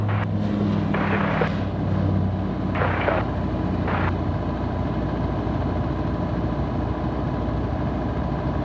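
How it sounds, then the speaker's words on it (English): Jetstar airliner in from Melbourne landing on runway 16 right at Sydney Airport in the evening, a steady loud roar of jet engines with a few short bursts of broadband rumble near the start. "Next to land on 16 right is Jetstar 522 in from Melbourne."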